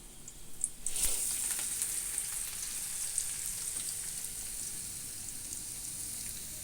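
Onions sizzle and fry in a pan for chicken curry, a dense steady crackle that swells sharply after about a second, then holds close and even with small pops and no talking.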